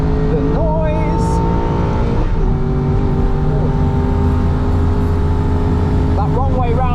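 An Aston Martin V8 Vantage GT4 race car's engine revs loudly and continuously from onboard during a lap, pitch rising and dipping through gear changes, with a voice talking over the steady engine roar.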